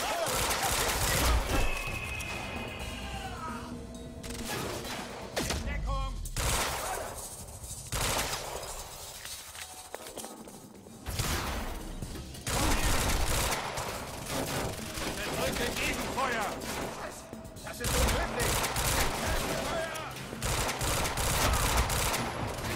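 A loud shootout in the video game Quantum Break, with sustained automatic fire and rapid volleys from several guns going almost nonstop, broken by a brief lull, while voices speak over parts of it.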